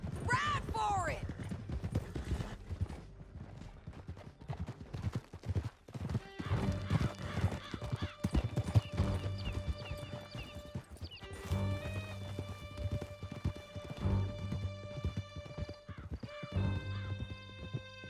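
Horses gallop with steady clip-clop hoofbeats and occasional whinnies in Red Dead Redemption 2 while voices talk over them and a musical score rises through the chase.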